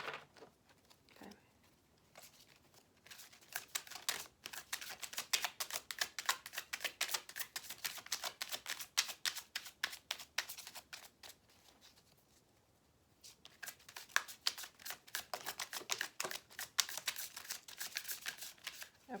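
Tarot cards being shuffled and handled in a quick, dense run of crisp papery riffles and flicks, close up, with a brief lull partway through before the shuffling picks up again.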